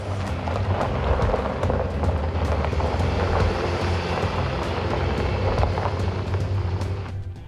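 A Toyota RAV4 pulls away after a clutch replacement, a steady, rumbling engine and road noise with faint rattles and clicks throughout, with no voices.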